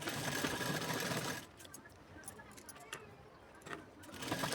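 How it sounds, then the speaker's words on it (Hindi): A sewing machine runs close by as it stitches a blouse, a steady, loud mechanical whir for over a second, then quieter light clicking and handling of the fabric while someone talks. "देख लीजिए मैं अटैच करने के लिए एक सिलाई लगा रही हूँ इसके ऊपर।"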